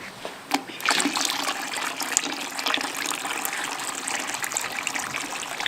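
Water pours in a steady, close trickle to even out the water levels between containers, starting after a brief knock and continuing without pause.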